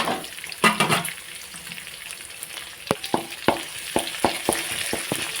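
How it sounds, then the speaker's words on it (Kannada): Chillies and curry leaves frying in a pan before fish is added, a close crackling sizzle with sharp spattering pops that grow more frequent toward the end, with no talking. "ಇದು ಚೆನ್ನಾಗಿ ಫ್ರೈ ಆಗಲಿ"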